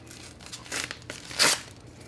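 A package is torn open by hand, giving a couple of faint crinkling rips followed by one louder, sharper tear near the end, close to the microphone with no talking.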